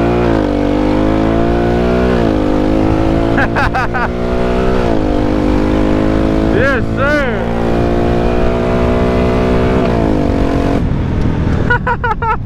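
A Honda with a tuned aftermarket exhaust revs repeatedly, the engine note climbing and falling in sharp blips over a steady loud idle, close to the microphone, with a brief spoken reply partway through.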